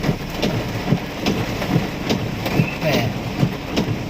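Steady heavy rain hisses throughout in Salaya, with a rhythmic clicking or thumping repeating about every half second, like wipers, and a low rumble beneath.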